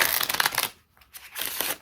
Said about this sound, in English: Pack of cards, let's give them a little shuffle